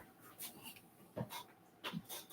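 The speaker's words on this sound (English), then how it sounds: "I got to let this dog out." A dog pants and whimpers softly indoors while waiting to be let out, with faint breathy huffs and a few short whines spread across the moment.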